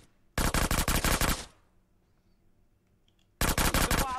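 Two bursts of rapid automatic gunfire in GTA San Andreas during a SWAT shootout, the first about a second long, then a pause and a second burst, loud and close with no talk.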